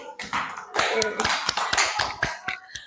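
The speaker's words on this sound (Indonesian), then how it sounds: "Beri tepuk tangan ke Chelsea." A class of students claps for a classmate who answered correctly, a quick burst of brisk, overlapping applause filling the room for about three seconds with no break.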